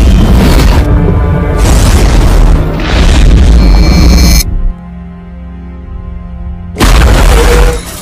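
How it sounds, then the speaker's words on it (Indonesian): Loud bomb explosions in a film: repeated heavy booms and blasts rumble across the opening seconds, then a muffled, underwater-sounding lull before another loud blast erupts near the end. "Tiba-tiba saja bom pun telah dimulai."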